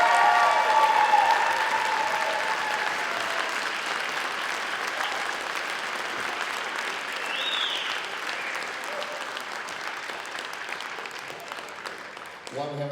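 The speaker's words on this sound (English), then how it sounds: "Big round of applause." Audience applause at a spring band concert, a loud sustained round of clapping from a large crowd that slowly tapers off, with a few voices and cheers mixed in.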